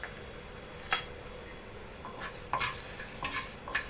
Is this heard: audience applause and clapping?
no